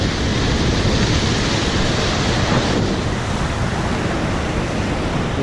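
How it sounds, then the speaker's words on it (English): Heavy white surf breaks on Yarada Beach near Vizag, a loud, continuous roar of crashing ocean waves with wind buffeting the microphone. The sound swells slightly and then eases, with no speech. "Look at the intensity of these waves, and it's just pure white surf."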